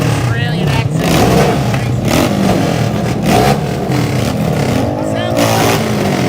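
Drag racing cars rev and accelerate at a no-prep track, loud engine roar filling the whole stretch with fluctuating revs, heard over a crowd and people talking nearby.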